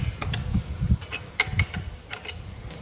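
Spanner loosening bolts on the oil pump of a Massey Ferguson MF135 six-speed tractor during restoration, with a series of close metallic ratcheting clicks and low knocks in an irregular rhythm.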